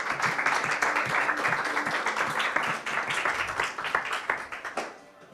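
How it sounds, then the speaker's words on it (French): Audience applause for a contestant, Quentin Nozet, at the 2020 PSL MT 180 final, a dense steady wash of clapping that carries on for several seconds and then fades at the end. "On l'applaudit très fort et on l'encourage."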